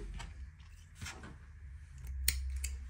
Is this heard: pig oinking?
no